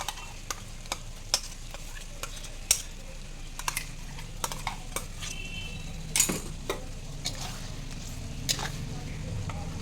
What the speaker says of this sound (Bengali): এবারে আমি মশলাটা যে মিক্সিতে পেস্ট করে রেখেছি মশলাটা দিয়ে দেবো